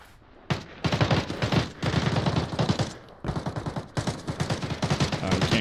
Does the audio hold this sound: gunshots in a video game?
yes